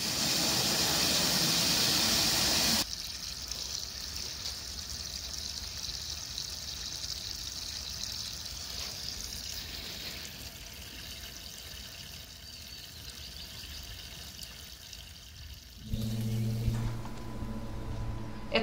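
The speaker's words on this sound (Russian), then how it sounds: "Первый налив воды." Water pours steadily into a small garden pond being filled for the first time, a broad hissing, splashing rush that is loud at the start, then settles into a softer continuous flow before a louder burst near the end.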